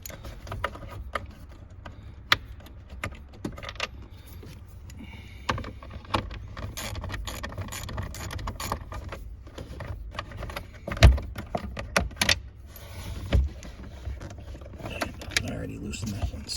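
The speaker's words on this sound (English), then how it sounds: "So we're just gonna have loosen these so it doesn't take too long for us" A hand tool loosens the 7mm glove box screws in a 2005-2009 Ford Mustang, giving scattered close clicks and ratcheting ticks over a quiet, low background.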